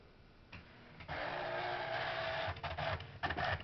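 An Amstrad PCW 8256 dot matrix printer printing, a quiet start giving way to a loud, continuous buzzing rasp of the print head, broken by brief pauses near the end.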